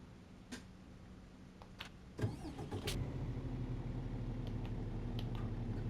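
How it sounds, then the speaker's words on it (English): A truck engine in the PS5 game On The Road Truck Simulator cranks with a sharp burst near the two-second mark, then settles into a steady, loud low idle rumble for the rest of the clip, with no talking. "So let's start the vehicle."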